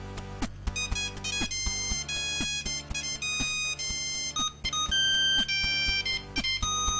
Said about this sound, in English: you can create your own ringtone using the dial tones on the keypad